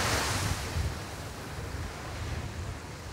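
Strong southwest wind at a beach on a northern coast, a loud continuous roar and buffeting rush mixed with surf, strongest at the start and then steady.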